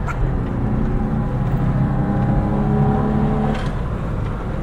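A Nissan Cherry Europe, the Alfa Romeo Arna twin, driven along with a steady, loud engine drone and road rumble from inside the car, its note rising gently throughout.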